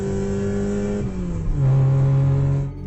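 A car engine revs and pulls away as a sound effect in a Hindi horror tale about a drive to Bhangarh Fort, its pitch sliding down before holding a steady drone, then fading.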